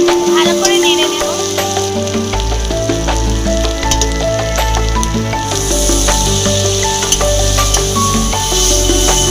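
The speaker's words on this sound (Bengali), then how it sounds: "এখন দিয়ে দেবো লঙ্কা, হলুদ গুঁড়ো, ভালো করে নেড়ে নেব।" Chili and turmeric powder hit a hot frying pan and get stirred, giving a steady, loud sizzle with scraping that runs throughout, over music playing in the background.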